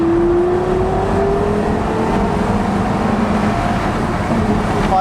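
A Porsche supercar engine pulls strongly while driving, a steady, loud motor drone whose tone climbs as the car accelerates, heard alone without talk.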